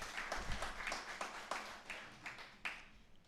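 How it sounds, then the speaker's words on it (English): Applause for track and field coach awardees at an awards ceremony in Jamaica: a moderate crowd claps in a loose, uneven patter of separate hand claps, fairly close and without talk. "Round of applause for them."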